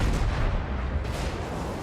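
Heavy naval gunfire exchange involving a Des Moines cruiser in a warship video game, a dense sustained rumble of booming shots and distant impacts running through the whole stretch, loud and continuous with no clear gaps.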